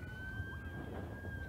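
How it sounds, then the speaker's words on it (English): A faint siren wails steadily in the distance during a Papakura versus Otahuhu match, a thin sustained tone over low background rumble. "Siren in the background."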